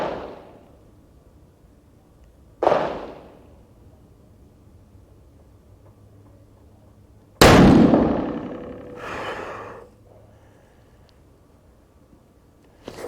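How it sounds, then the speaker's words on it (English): Two sharp, loud rifle shots from a Savage Impulse chambered in 300 Win Mag ring out outdoors several seconds apart, each followed by a rolling echo, with quiet in between. "Second shot, bottom target."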